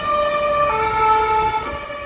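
An ambulance siren sounds on a street in Lagos, Portugal, a loud steady tonal wail that holds and then dips slightly as it moves along, with road rumble underneath.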